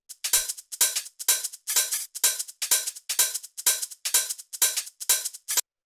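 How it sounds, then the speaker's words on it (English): A 909-style hi-hat pattern from a deep minimal house track: about a dozen bright, crisp metallic ticks in a steady even rhythm, loud and dry, playing alone with short gaps between hits. "sort of like a 909 style hat"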